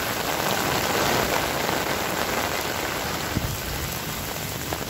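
Heavy rain pours down in a steady, dense hiss during a rainstorm, loud and close throughout, with no voices over it.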